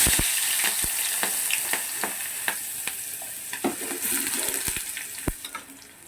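Small chopped onion pieces fry in oil for a seafood curry, with steady sizzling and sharp scraping taps of a spoon stirring the pan throughout, close and moderately loud.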